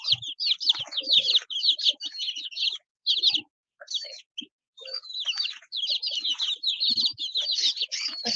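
Baby chicks chirping in a brood pen, a dense stream of high, rapid peeping calls overlapping almost continuously with brief pauses, close and fairly loud.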